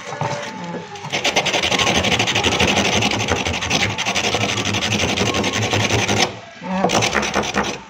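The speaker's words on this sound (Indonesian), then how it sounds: "Baru diamplas lagi. Amplas lagi biar halus." Sandpaper rubs back and forth over a piece of bamboo being smoothed for a pan flute, a close, steady rasping that runs for several seconds, breaks briefly, then resumes.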